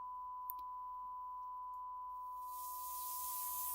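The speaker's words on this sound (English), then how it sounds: "Sine wave is only making sound." A sine wave tone plays alone on one track of a sidechain compressor ducking demonstration, a pure steady pitch held throughout, with a soft hiss swelling in underneath toward the end.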